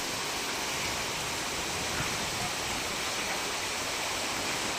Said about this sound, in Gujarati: ધોધમાર વરસાદ વરસ્યો અને ધોધમાર વરસાદની સાથે પવનની ગતિ પણ તેજ થયેલી જોવા મળી